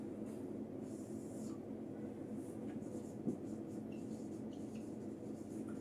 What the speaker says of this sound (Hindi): सबसे पहले जो फर्स्ट पॉइंट हम लोग लिखेंगे वो मैं लिखता हूं